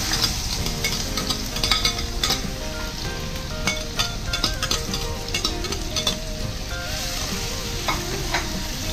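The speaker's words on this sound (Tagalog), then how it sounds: "I-fry na natin yung ating garlic" Garlic sizzling steadily in hot oil in a frying pan, with a continuous crackling hiss broken by scattered sharp pops and intermittent scraping stirs, close and fairly loud, no voices.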